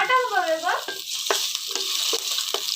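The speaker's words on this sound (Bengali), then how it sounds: "কড়াই তেল দিয়েছি এরপর আমি উচ্ছেগুলো দিয়ে দেবো" Steady loud sizzling of bitter gourd frying in hot oil in a wok, with a brief whining tone at the start and occasional scraping stirs.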